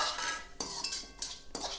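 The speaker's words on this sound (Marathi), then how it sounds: "आता आपण हे जिरे परतून घेणार आहोत" Cumin seeds are being dry-roasted and stirred in a pan, with a metal spoon scraping and clinking against it in repeated close strokes over a soft continuous sizzle.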